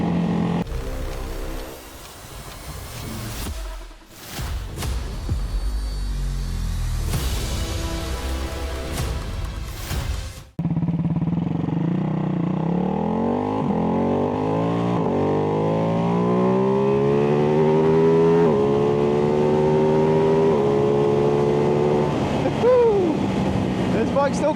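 Heavy wind buffeting dominates at first, then a Ducati Hypermotard V2 motorcycle engine comes through clearly, revving up through several gears in rising, stepped sweeps while riding at speed.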